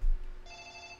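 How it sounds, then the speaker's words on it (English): An electronic telephone ring chimes steadily in a quiet indoor room, a soft repeating tone starting about halfway through after a low thump. "I don't even know who that is that's phoning."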